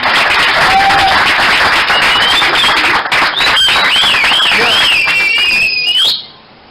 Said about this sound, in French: nous pouvons acclamer et applaudir nos amis